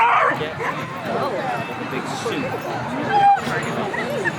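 A search dog at an outdoor dog festival gives yips, whimpers and short barks close by, mixed with steady human talk and crowd chatter.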